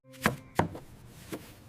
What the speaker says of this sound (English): Grown-ups use the cutting board to cut yummy fruits and veggies like these.